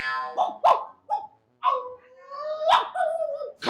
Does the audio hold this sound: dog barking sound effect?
yes